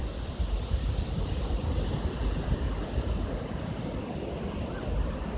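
Ocean waves at night form a steady, loud, broadband rush of surf that roars on without a break, with wind-like hiss and no voices.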